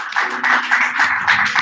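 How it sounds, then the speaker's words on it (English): A small audience at an outdoor stand-up gathering in Washington, D.C. gives a round of applause, scattered uneven claps in irregular bursts at moderate distance, with no talking. "Give them a round of applause."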